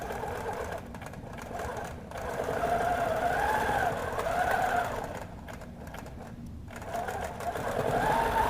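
A sewing machine stitches through paper-pieced fabric to tack down a corner point, running in close, steady whirring bursts with brief pauses between runs.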